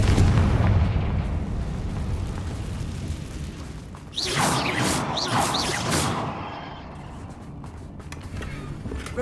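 A Confringo spell explosion in Hogwarts Legacy, a loud low rumbling blast followed by a bright crackling burst that fades out, with no voices.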